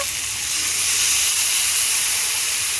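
Hot pan steaming hard after a splash of water goes in with ground potol (pointed gourd) seeds, a steady loud hiss and sizzle running unbroken throughout.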